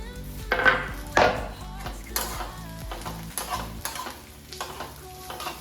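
Onions and green chillies sauté in a pan, a soft sizzle broken by a few sharp spatula scrapes and clinks against the metal.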